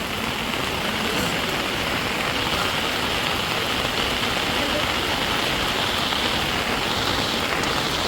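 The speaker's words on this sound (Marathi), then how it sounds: "तिकडे बघा कसं एकदम जोरदार पाणी वाहतोय" Floodwater from a swollen village river rushes forcefully past in a steady, dense roar, loud and continuous throughout with no pauses.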